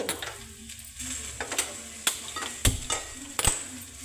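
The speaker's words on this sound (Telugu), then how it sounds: "ఈ వేరుశనగ గింజలు అందులో వేసుకొని వేపుకుందాము." Peanuts frying in a pan for a garlic and chili chutney, soft sizzling under several sharp clicks and scrapes of a spoon stirring the nuts against the metal.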